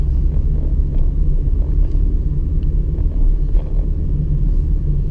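A car pulls away in second gear on a driving-test route in Morden, its engine a steady low rumble that holds close and even throughout with no voices.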